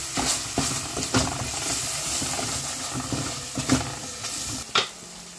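Chili and garlic fry in a pan for chutney with a steady, close sizzle, broken by a few louder crackles and stirring scrapes, with no talking.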